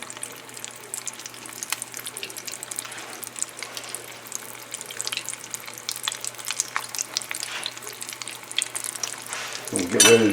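Canned sardines deep frying in hot oil give a steady, moderately loud sizzle with crackling bursts, building toward the end as something splashes or shifts in the pan.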